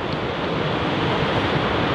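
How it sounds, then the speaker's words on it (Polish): Strong wind blows on the seaside during shore fishing, giving a loud, continuous broadband roar with rumbling gusts against the microphone and no talking. "Trochę wiatr nie sprzyja, bo cały czas twarz prosto wieje."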